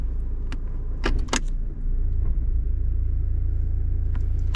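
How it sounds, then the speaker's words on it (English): A 2001-2005 Honda Civic with an automatic transmission idles with a steady low engine rumble, broken by a few light clicks and jangles as the shifter moves through the gears. No voices. "so I let it idle for a couple of seconds before I put in drive"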